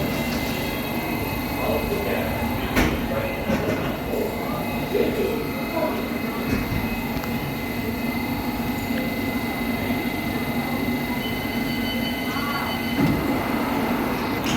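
A London Underground subsurface line train rumbles steadily throughout, a continuous loud interior roar with occasional clanks and squeals, while passengers talk under the noise.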